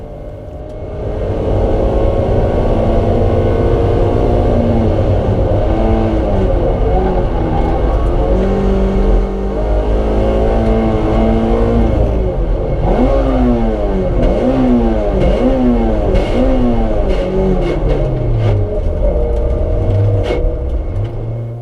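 A club race car at Silverstone during a Clubsport Trophy race roars loudly from inside the cockpit, its engine rising through repeated upshifts and pitch sweeps over a constant rumble.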